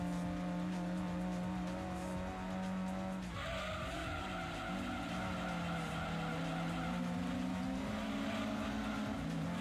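An underpowered Toyota Supra race car in Gran Turismo 2 drones on at a steady engine pitch, with tire squeal and skidding as it corners. The engine tone shifts partway through, and the sound runs continuously at a constant loud level.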